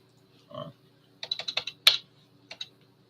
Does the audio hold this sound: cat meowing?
no